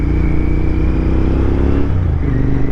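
A Buick car engine drones loud and close, a steady rumbling hum that holds throughout with a slight dip toward the end.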